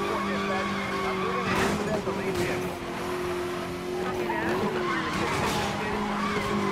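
A car drifts through a corner in Need for Speed Most Wanted, its tires squealing in a long, wavering howl over a constant engine roar, loud and close throughout.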